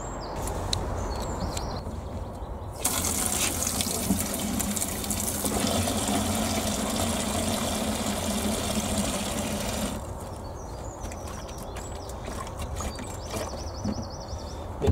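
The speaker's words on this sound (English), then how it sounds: "I'm going to mix water to this can I've got here" Rainwater poured into a can to make a comfrey mix for watering strawberries: a steady, fairly loud gush of liquid fills the middle of the clip for several seconds, with quieter outdoor background before and after. No one speaks.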